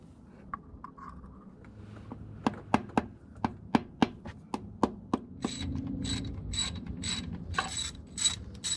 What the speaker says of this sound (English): We torque down the 10mm bolts to 10 Nm and the 30mm bolts to 23 Nm.